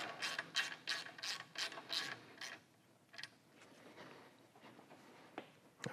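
Quick, quiet clicks of a hand ratchet snugging bolts during final assembly of a Harley-Davidson Dyna motorcycle in a workshop, with a fast burst of strokes first, then a pause and a few slower, scattered clicks.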